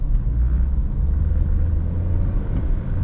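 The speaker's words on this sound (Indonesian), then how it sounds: "kalau ingin tambah cepat, tambahi tekanan gas." A car engine running under steady throttle while driving, a loud continuous low rumble heard from inside the cabin, without a sharp rise in revs.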